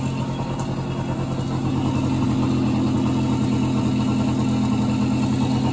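A 1970s Suzuki AK 50cc moped engine runs steadily up close with a buzzing, even drone that grows slightly louder after two seconds, with no talking.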